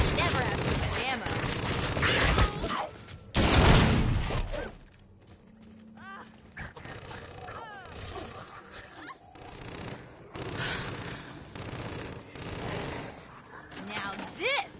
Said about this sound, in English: Now this is a gun.